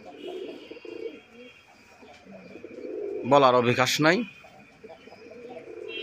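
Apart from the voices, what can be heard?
pair of sky-blue Rajgolla pigeons cooing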